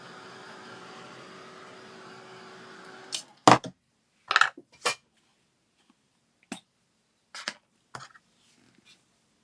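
A dryer blows on wet paint on a snowman craft, a steady whooshing hum for about three seconds that then cuts off, followed by scattered close clicks and handling taps.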